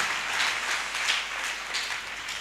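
Crowd applause in a church gathering hailing Jesus Christ, a broad steady wash of clapping with a few swelling peaks, moderately distant, with no speech over it.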